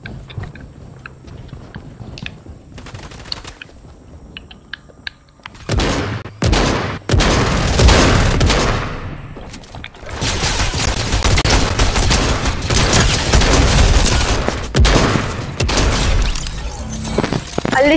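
Rapid bursts of game gunfire crackle during a team match in an online shooter, with scattered single shots first and then dense, loud volleys and automatic fire that run almost without pause.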